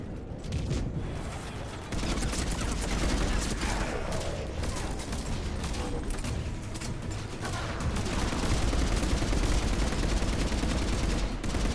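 Sustained gunfire against a Harvester in the Mass Effect 3 Leviathan mission: dense, continuous bursts of automatic shots run throughout with heavy low rumble and a busy battle din, close and loud.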